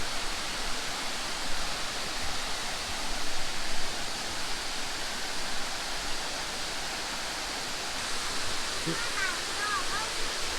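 A constant, even roar of rushing water from Mae Kampong waterfall in Chiang Mai, Thailand fills the scene, with a faint voice briefly audible near the end.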